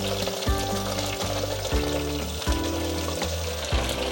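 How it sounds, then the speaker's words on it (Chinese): King oyster mushroom strips deep-fry in 170-degree oil, a steady close sizzle with soft bubbling and a few brief splashes as more strips drop in. "油已经170度了，放进来炸。"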